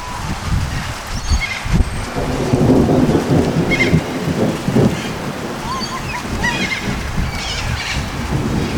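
Rolling thunder rumbling over Lake Illawarra in New South Wales during a storm, long low booming swells in the distance with rain and wind noise throughout.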